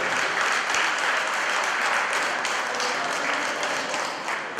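An audience at an Ivorian community event in Los Angeles applauds loudly and continuously, a dense wash of clapping that holds steady and fades slightly at the end.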